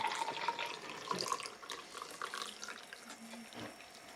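Hot spiced cider poured from a can into a cup, a short close liquid splash and trickle that tapers off, heard alone.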